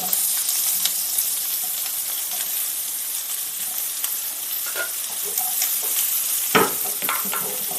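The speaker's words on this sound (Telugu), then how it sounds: "కరివేపాకు పచ్చిమిర్చి అన్నీ వేసేసాక బొబ్బర్లు కొంచెం స్టవ్ సింగ్లో పెట్టుకొని" Black-eyed peas frying in a hot tempering with curry leaves and green chillies, giving a steady, close sizzle with occasional stirring scrapes and clinks throughout, with no talk.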